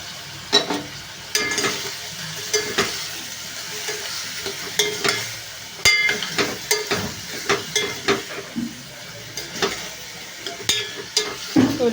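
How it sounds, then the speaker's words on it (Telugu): Onions sizzle in a pan with prawns, a steady frying hiss broken by frequent scraping stirs of the spatula, close and lively without any talking. "ఉల్లిపాయలు అయితే వేగుతున్నాయండి"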